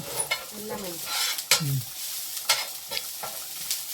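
A Kerala village-style netholi (anchovy) fish curry with ground coconut, tomato and drumstick bubbles vigorously in a pot, giving a steady close hiss with irregular pops and light clinks, without talk.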